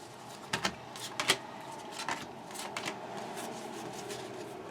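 Soft riffling and flicking of tarot cards, a few quick crisp bursts close by, then quieter shuffling with no talk.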